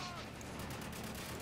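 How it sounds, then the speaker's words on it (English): Gunfire rings out in the Spec Ops: The Line demo, a dense, steady burst of shots packed together through the whole moment under a continuous battle din. "we're taking some heavy fire here"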